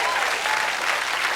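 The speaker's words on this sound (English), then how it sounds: "Give Holden a big round of applause." A studio audience at the 2010 National IQ Test television show applauds its sponsor Holden, a steady, dense wash of clapping that stays loud and even throughout with no break.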